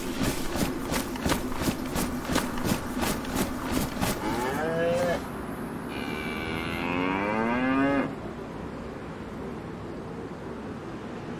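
A cow moos twice in the video game DayZ, long drawn-out lowing calls, after a rhythmic mechanical clatter; the sounds have a clean, synthetic game-like quality.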